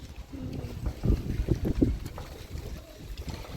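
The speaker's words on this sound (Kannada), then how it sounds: "ಗಾಳಿ ಬೀಸ್ತೈತಿ" Outdoor wind blows in gusts, a low rumbling buffet against the microphone that rises and falls without any clear voices.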